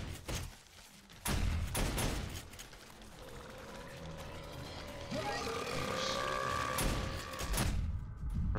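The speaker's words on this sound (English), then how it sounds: "And all those turrets are rocking." Automated turrets in the video game 7 Days to Die fire at a horde during a blood moon night, a steady run of rapid gunfire and mechanical clatter with someone talking over it.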